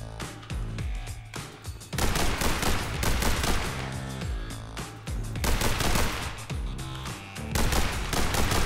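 Rapid bursts of gunfire in the video game The Hong Kong Massacre repeat throughout, loud and continuous, with sharp volleys and short gaps between strings of shots.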